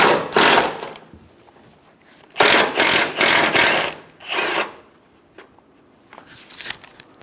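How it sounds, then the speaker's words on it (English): Ratcheting bursts from a 12mm socket wrench loosening the three top strut nuts on a 2010-2014 Subaru Outback, in close, loud runs of rapid clicking separated by short pauses. "Using a 12mm socket, remove the 3 top strut nuts"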